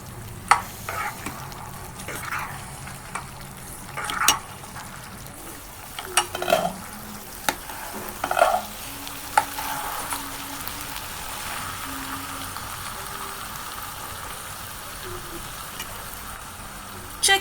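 Mixed vegetables for Gujarati undhiyu are stirred in a hot pan, giving a steady close sizzle broken by irregular spoon scrapes and soft clatters against the metal. No one speaks.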